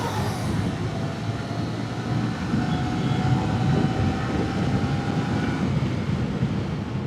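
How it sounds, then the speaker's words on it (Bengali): A train passing near a Kolkata road, heard as a steady, fairly loud low rumble with faint metallic squealing tones running through it and no voices. "তো ট্রেনে বেরিয়ে যাচ্ছি।"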